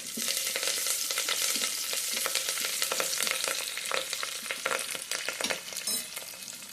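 Onions and curry leaves sizzle steadily in hot tempering oil for a cucumber dal, a dense close crackle with bursts of spattering and stirring scrapes, with no talking.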